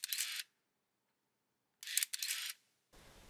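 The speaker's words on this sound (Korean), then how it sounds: "카메라 셔터 소리가 이렇게 아름다운 줄 몰랐는데" Film camera shutter, just revived after its burst battery was replaced, fires in three crisp close clicks: one sharp snap, a long silent pause, then a quick double click.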